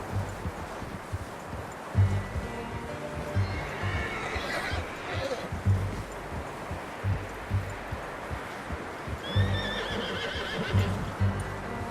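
A horse in Red Dead Redemption 2 whinnies and neighs repeatedly, with steady clip-clopping hooves, rustling and game ambience underneath and spoken dialogue in places.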